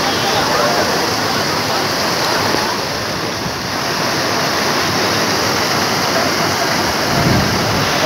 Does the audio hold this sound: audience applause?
no